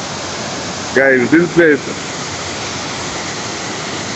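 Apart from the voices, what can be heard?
waterfall, water splashing everywhere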